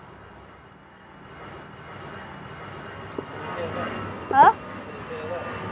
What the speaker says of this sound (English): Yeah, that's an airplane. EasyJet, rare.